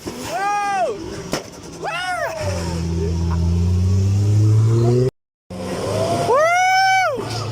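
Revving car engine from a VW GTI with modified exhaust, rising and falling in several blips, with a sustained high rev in the middle; loud and close, with a brief cut of silence before a final rev.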